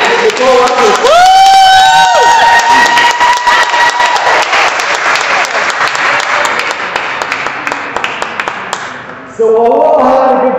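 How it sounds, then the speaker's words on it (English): Loud, sustained applause with cheering and whoops from a crowd at a political rally for a city council member, dense clapping that runs for about nine seconds with voices shouting and singing over it before a sudden cut. "let's give a round of applause for our City Council, Nicole Rutgers"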